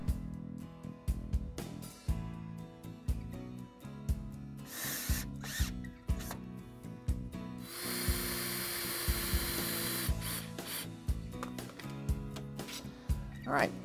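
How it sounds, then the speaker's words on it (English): A power drill drives screws into 2x4 stretcher and apron joints of a wooden potting table, in a series of short whirring bursts separated by pauses, close and fairly loud, with one longer continuous run near the end. "Once they're all in place, attach with screws."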